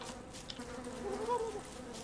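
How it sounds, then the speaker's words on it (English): Angry killer bees swarm with a steady, mid-loud insect buzz in the Don't Starve Together video game, a continuous drone with a slight swell near the middle. "Oh, angry bees. I don't think they count. I don't think killer bees count."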